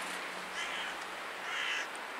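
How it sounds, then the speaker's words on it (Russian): Crows caw loudly right by a house corner outdoors in the morning, two harsh calls in quick succession over a steady background hiss. "Тут вороны."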